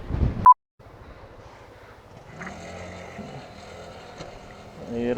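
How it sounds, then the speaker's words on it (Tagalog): Strong wind buffets the microphone beside a parked motorcycle on a Philippine road trip from Tuguegarao City to Pangasinan, a steady low rumble broken by a sharp burst and brief dropout near the start, rising again at the end. "Ang lakas ng hangin."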